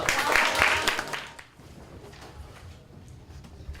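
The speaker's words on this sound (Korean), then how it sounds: "박수로 모시겠습니다" An audience at a youth labour rights forum claps to welcome speakers to the front, a short burst of applause that fades within about a second and a half into quiet room noise.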